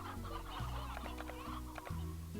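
Many chickens in the Slime Rancher video game cluck steadily and close by, with layered overlapping clucks and low repeating game tones underneath.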